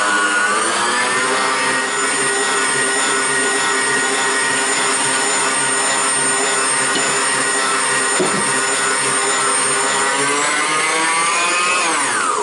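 A stand mixer whisks almond and hazelnut nougat mixture at maximum speed, producing a loud, steady motor whine that holds nearly unchanged for the whole stretch, with no voices.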